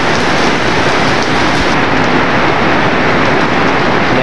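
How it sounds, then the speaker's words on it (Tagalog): Heavy rain pours down over Manila Bay in a loud, dense, unbroken hiss, drumming steadily on surfaces close by. "Lakas ng ulan."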